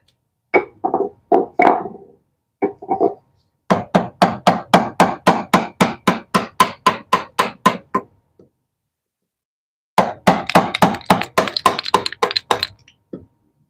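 A chisel is struck repeatedly as a demolition tool, giving a few knocks and then a rapid, loud run of about twenty sharp hammer blows, a pause, and another quick burst of close thwacks.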